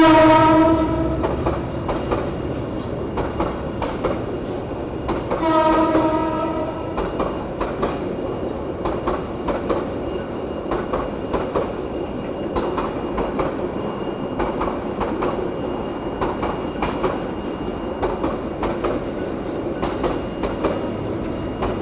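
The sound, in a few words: train passing with horn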